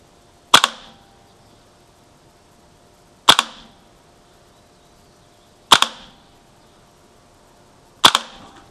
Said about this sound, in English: So I'm going to put another 4 rounds right where I was aiming before.